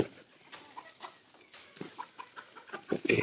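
Pigeons coo and flutter faintly in short, scattered bursts against a quiet background; one pigeon has something caught on its foot.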